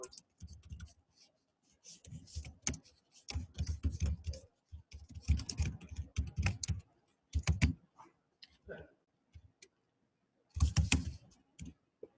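Typing on a bouncy, springy computer keyboard, with bursts of fairly loud clattering keystrokes separated by brief pauses, close to the microphone.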